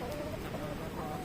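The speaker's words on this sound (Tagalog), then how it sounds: "Ayan, mga manok." Chickens clucking in a yard during strong wind, soft repeated clucks heard faintly amid steady background noise.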